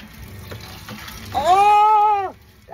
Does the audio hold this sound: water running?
yes